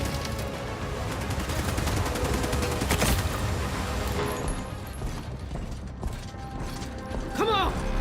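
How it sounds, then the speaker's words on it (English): Rapid point-defense cannon fire in the sci-fi shooter The Expanse: Osiris Reborn, a dense mechanical rattle of shots over steady combat noise, one sharper crack near the middle, ending with faint chirping tones. "Even their armor won't stand a chance against PDC fire."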